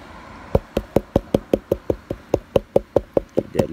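Rhythmic tapping on a metal gold pan to settle paydirt, about fifteen sharp, evenly spaced taps close up that speed up slightly toward the end, with no talk over them.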